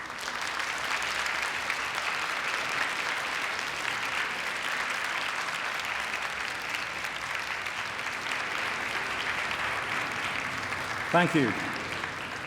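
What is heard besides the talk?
graduation ceremony audience applause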